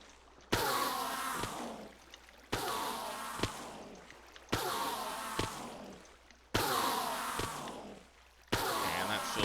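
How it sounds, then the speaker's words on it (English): Water pouring from buckets in Minecraft plays as a series of five repeated splashy gushes, each starting abruptly and tapering off, evenly spaced and fairly loud with no talking over them. "Water will flow down and fill the whole area."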